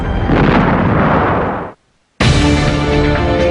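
Bombs and artillery explode on D-Day in a loud, close blast that rolls on for over a second. The sound cuts to brief silence before another powerful burst of booming detonation returns.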